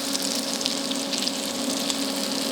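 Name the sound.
crab cake frying in a pan after being flipped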